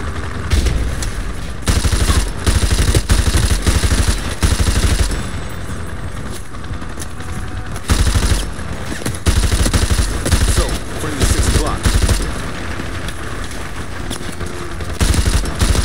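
Video game gunfire in Call of Duty Modern Warfare Remastered, loud rapid machine-gun bursts rattling close in repeated volleys with brief pauses between them, no talking.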